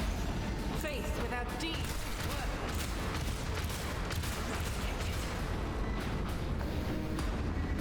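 Sustained, dense gunfire from a battle against a Chaos Marine in Warhammer 40K: Rogue Trader, a continuous roar of shots and blasts at steady loudness with no pauses.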